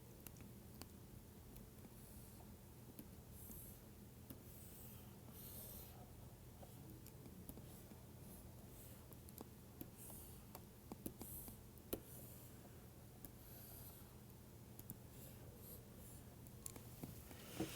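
A pen writes on paper in a quiet lecture setting, faint scratchy strokes ticking along steadily and closely with small pauses between marks.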